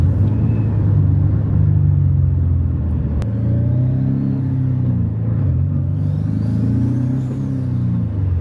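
A Nissan 370Z engine with a mid-mount 6466 turbo rumbles and revs steadily, with whirring turbo spool rising and falling over a constant low drone, close and fairly loud.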